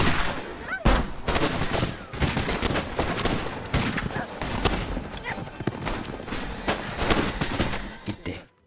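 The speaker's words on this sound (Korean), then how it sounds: "이때 앞서가던 제인이 뒤늦게 총소리를 듣습니다" Gunfire rings out in a Western period-film battle scene, dense overlapping shots and volleys crackling loud and near, mixed with hoofbeats and shouting voices throughout.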